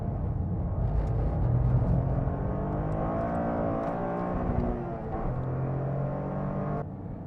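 A Toyota GR Corolla's engine drones and climbs in pitch as it accelerates on a race track, loud and sustained from inside the car, with revs rising steadily before easing near the end.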